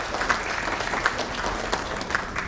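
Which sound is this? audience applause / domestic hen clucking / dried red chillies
audience applause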